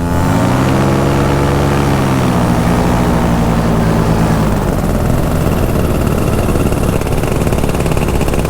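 A paramotor engine runs loud and close on a French clifftop, its propeller drone sliding down in pitch for a few seconds before settling into a steady, rough roar.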